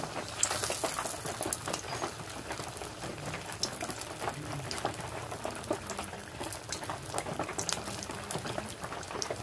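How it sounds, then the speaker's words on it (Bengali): Jackfruit malpua fries in hot oil, giving a steady, dense bubbling sizzle that holds at an even level throughout. "উল্টে পাল্টে একটা ব্রাউন কালার করে এটাকে ভেজে নেব"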